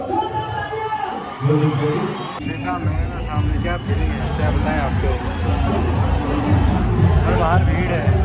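Dense crowd hubbub at the Uttarani fair, a busy outdoor mela, with overlapping voices and chatter swelling steadily after a quieter opening moment, close and continuous.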